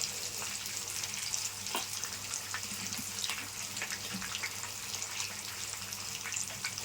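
Fish pieces frying with curry leaves in hot oil, a constant close sizzle with scattered crackles and pops over a low simmering hiss.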